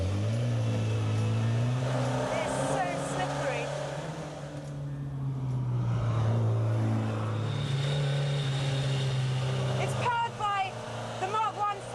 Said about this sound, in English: the Ginetta G4 was the car to have in the 60s